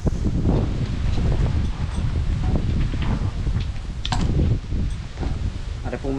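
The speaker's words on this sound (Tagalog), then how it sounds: "Ay, lakas mo naman ng hangin na ba?" Strong wind blusters steadily across an outdoor cooking spot, a constant broadband rush with brief gusting swells and small clatters, while a person talks intermittently over it.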